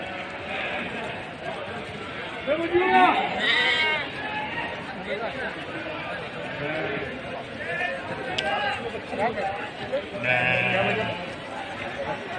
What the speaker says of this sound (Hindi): सोजत का ब्रीडर ज़बरदस्त बकरा है